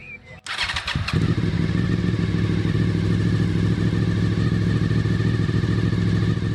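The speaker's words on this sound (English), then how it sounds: "Start the engine." A Honda VFR 800 motorcycle engine cranks briefly, catches and settles into a steady, loud idle with a deep, even rumble, heard up close after a coolant and oil change, with no talking.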